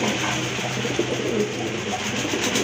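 A pair of Khoira-necked pigeons at a pigeon sale, giving soft, continuous low cooing close by against a steady background din.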